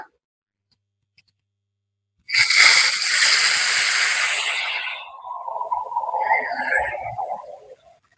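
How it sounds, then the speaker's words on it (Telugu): Tamarind water hits hot fried masala for a stuffed brinjal curry with a sudden loud sizzling hiss that slowly fades into bubbling spatter, with no talk. "ఈ వాటర్ని ఈ వేగిన మసాలాలో వేయాలి"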